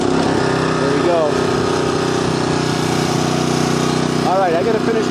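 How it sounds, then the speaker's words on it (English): A snow blower clearing a residential driveway, its small engine droning loudly and steadily at close range while someone talks over it. "I don't know if you guys are familiar with snow blowers."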